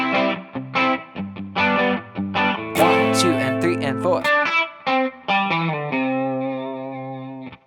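A distorted electric guitar strums the chord progression of a song in a steady rhythm while a voice counts the beats over it.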